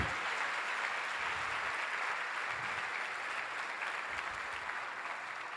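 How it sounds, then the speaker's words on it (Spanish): A church congregation claps loudly and continuously, a thick, even roar of applause that holds steady from start to finish without any talk on top. "Apláudele fuerte al Jesús"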